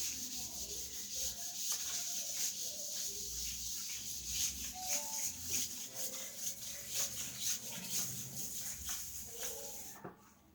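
A board being wiped with an eraser during a transistor physics lecture: steady, close scratchy rubbing strokes repeat for about ten seconds with no talking, then stop abruptly.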